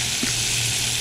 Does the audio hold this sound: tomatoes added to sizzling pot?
yes